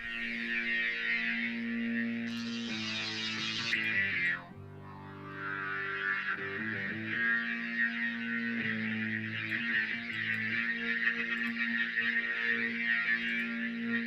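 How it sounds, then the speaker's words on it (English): Sustained organ chords through a Leslie spinner plugin, a swirling, wobbling rotary-speaker effect, moderately loud, shifting notes over a steady drone, no voices. "It's a Leslie spinner, and I have a free Leslie spinner plugin"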